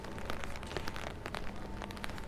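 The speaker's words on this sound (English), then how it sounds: "It's a bit rainy today." Rain falls on the streets of Venice, a dense patter of drops striking hard surfaces close by, steady throughout the short stretch.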